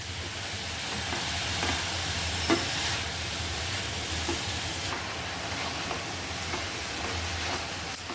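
Carrots sizzle gently in ghee over medium gas while being sautéed for carrot halwa, a soft continuous frying hiss with occasional light scrapes and taps of a spoon stirring the pan, fairly quiet and close, no speech.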